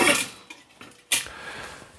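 Stainless steel Kelly Kettle camping stove parts clink and scrape together as they are fitted, a few separate close metallic knocks with quiet gaps between them.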